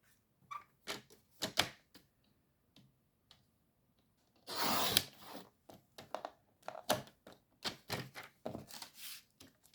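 Card strips cut while making a simple folded greeting card: a run of crisp, dry snips and taps, with a longer rasping slice in the middle, heard close and alone.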